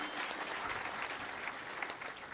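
A short burst of dense applause from a church congregation honouring its elders, steady clapping throughout without pause.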